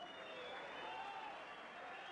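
Crowd at a heavyweight boxing bout in a casino venue applauds after a clean fight, a steady, distant wash of clapping and cheering that stays even and fairly faint throughout.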